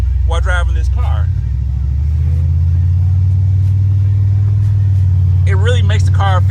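Ford Mustang engine rumbles steadily from inside the car as it drives on a hot day, a low continuous drone, with someone talking briefly at the start and end.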